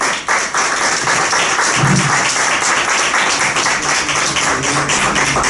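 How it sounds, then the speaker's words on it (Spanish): Sustained audience applause fills a church or lecture hall as a priest is welcomed to give a talk on love, dense steady clapping throughout at fairly loud level with no speech over it. "Recibamos con palmas a padre Meloni."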